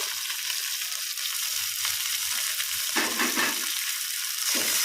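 Green chilies, curry leaves and fenugreek leaves frying in oil, a continuous close hiss of sizzle with a couple of brief louder bursts as the pan is stirred.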